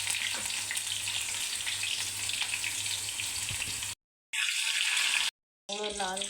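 Tamarind, jaggery, cumin and curry leaves fry in hot oil with a steady, dense sizzle that runs continuously, broken by two brief silent gaps near the end.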